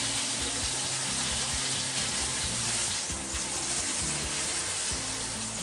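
Pork steaks searing in a hot oiled pan in Khon Kaen, giving a steady, dense sizzle that runs unbroken through the whole stretch, close and fairly loud, with low clatter and bumps from the pan beneath.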